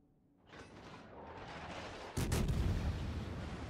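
Naval gunfire in the video game World of Warships: a mechanical whir builds, then a loud, sharp cannon blast booms and rumbles on, with no talking over it.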